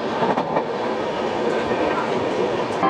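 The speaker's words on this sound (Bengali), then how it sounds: "আমাদের ট্রেন এই মুহূর্তে পার করছে বিহারের পাহাড়পুর স্টেশন।" A moving train rolling past Paharpur station in Bihar, heard from on board: a loud continuous rumble with faint clickety-clack of wheels over rail joints, steady throughout.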